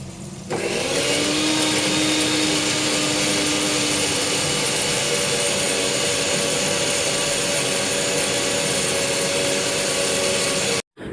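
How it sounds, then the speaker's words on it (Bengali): A kitchen mixer grinder grinds spice paste with a loud, steady motor whine and rattle that runs almost unbroken for about ten seconds, stopping abruptly near the end. "আবার মশলাটা না মিক্সিতে পেস্ট করে নিই"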